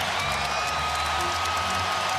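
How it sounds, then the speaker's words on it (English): Basketball crowd at Madison Square Garden on its feet during a tight Celtics game: a steady, loud roar of cheering and applause fills the arena without a break. "Crowd on its feet."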